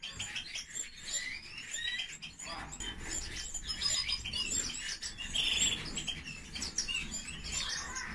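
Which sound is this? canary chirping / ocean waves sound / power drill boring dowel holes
canary chirping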